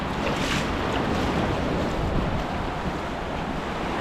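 Surf washes steadily onto Cooee Beach in Tasmania on a Monday morning, a continuous broad rush of waves with wind buffeting the microphone throughout and no voices.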